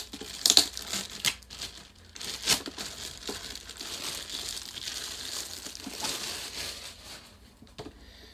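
A GoPro Hero 7 Black is unwrapped from bubble wrap and plastic wrap in irregular, close crinkling bursts, with sharp crackles near the start and softer rustling after.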